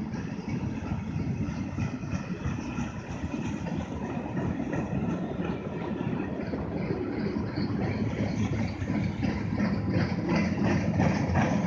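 A heavy CSX diesel freight locomotive idles with a steady low rumble at Hamlet Terminal, constant and fairly close, with no voices.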